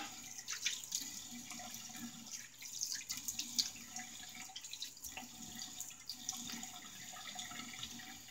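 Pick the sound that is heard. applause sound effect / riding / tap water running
tap water running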